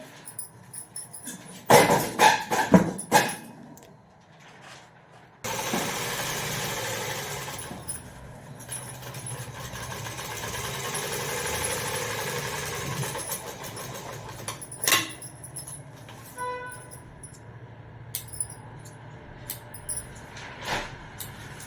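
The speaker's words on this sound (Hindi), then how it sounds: "अब इस इलास्टिक पे हम बीच वाली सिलाई भी लगा देंगे।" A sewing machine stitches down the middle of elastic for a saree, its steady motor hum running close for several stretches, broken by handling knocks and short pauses.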